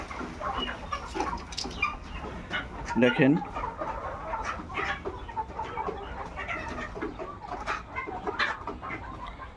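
White layer hens on a poultry farm cluck and chatter steadily throughout, a busy flock close by, while someone talks over the birds.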